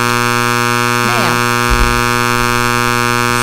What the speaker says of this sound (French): C'est l'alarme d'incendie de l'UQAM.